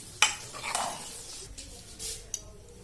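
Garam masala being stirred into a pot of Bihari-style dal fry, with a spoon scraping and clinking against the pan over a soft sizzle, close and steady, with a few sharper metal taps.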